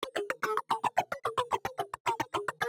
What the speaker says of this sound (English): the other part is a rhythm guitar that sounds like this